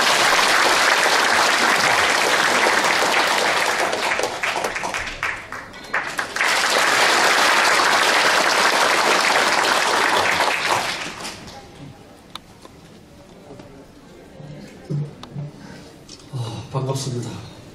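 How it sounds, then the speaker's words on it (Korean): Sustained audience applause fills the hall at a county governor's inauguration ceremony in Uiryeong, loud and dense for about eleven seconds with a brief dip midway, then fading to scattered claps and murmurs. "박수 부탁드립니다"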